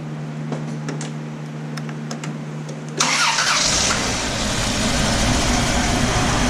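A car with a weak, noisy alternator cranks and catches, then settles into a loud, steady idle; before the start a low hum and a few faint clicks are heard, with no talking.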